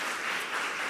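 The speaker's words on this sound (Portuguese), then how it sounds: "Você pode dar um aplauso ao Senhor, queridos, por essa palavra." A church congregation applauds in a dense, even wash of clapping that holds steady for a brief moment, with no speech over it.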